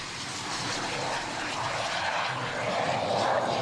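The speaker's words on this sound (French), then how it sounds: "Impressionnant de voir un A400M comme ça. C'est impressionnant, c'est une très belle machine." Airbus A400M military transport aircraft, brand new, running its engines close by as a steady, loud broadband roar that holds for several seconds without speech.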